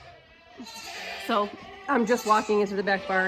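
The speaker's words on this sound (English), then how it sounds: "you can hear all of the goats going off" Goats bleat repeatedly inside a back barn, a chorus of loud, wavering cries rising in bursts with one close kid among them, while a person speaks at the start.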